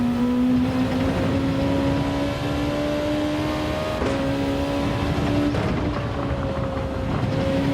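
Race car engine in Gran Turismo 7 during a Honda Racing time trial, a loud steady drone holding high revs with gear shifts that drop and climb the pitch, no talk over it.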